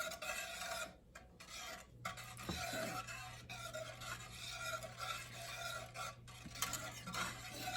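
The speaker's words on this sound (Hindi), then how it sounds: "अब मैं विस्क इस्तेमाल करती हूँ।" A whisk scrapes and stirs karhi batter in a bowl, a steady close rasping swish running throughout with a few brief pauses and a low hum beneath.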